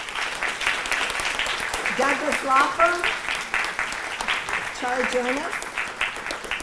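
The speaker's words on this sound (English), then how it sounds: "round of applause for Veritas Steel" Audience applause at a kids' tag art event held by a county tax collector, a steady wash of clapping that runs throughout beneath a speaker's voice over a loudspeaker.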